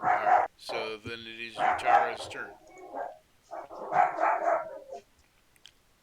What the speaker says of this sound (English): Oh wait, that is a dog.